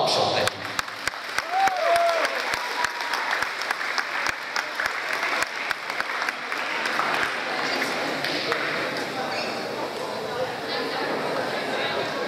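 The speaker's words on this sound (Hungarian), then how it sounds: "Na, tapsolt neki!" School audience applauding steadily at a Hungarian first-year students' welcome event, a dense continuous clatter of clapping that holds from start to end.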